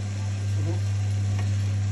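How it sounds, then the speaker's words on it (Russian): Oyster mushrooms frying in a pan, giving a steady, close sizzle with a low constant hum under it and a brief stir partway through; nobody speaks. "Ну, пока запекается рыбка, немного обжариваю грибочки."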